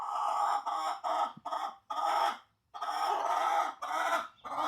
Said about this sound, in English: You hear the chickens out there?